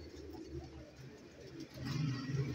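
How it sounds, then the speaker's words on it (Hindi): A jaaldaar kamgar pigeon, a fancy breed, coos softly and low, the call growing a little fuller near the end, with no talk over it. "जालदार कमगर कबूतर है"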